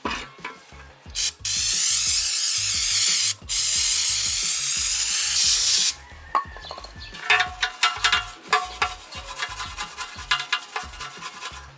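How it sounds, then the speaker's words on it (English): Brake cleaner is sprayed onto a car's automatic transmission pan in two long, loud hissing bursts, followed by quieter wiping and clattering handling sounds near the microphone. "what I'm gonna use is be some brake cleaner. I'm just gonna clean this up real quick"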